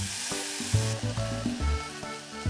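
Pork, cabbage and carrot stir-fry in sesame oil in a pot for a toddler's meal, a loud close sizzle with repeated scraping and stirring strokes in an uneven rhythm, no voices.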